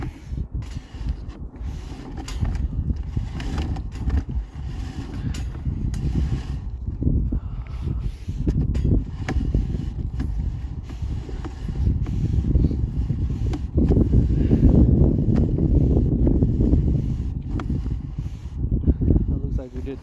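A K60 drain cleaning machine running a 3-inch cutter through a pipe gives a steady mechanical whir and rumble. It stays close and continuous for the whole stretch, with people talking over it.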